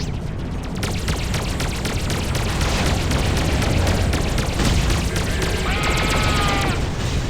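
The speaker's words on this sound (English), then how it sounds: "Enemies open fire" Enemy weapons fire and explosions rumble through a Freelancer space dogfight, a continuous loud barrage of booms and rapid shots with a brief whining sweep near the end.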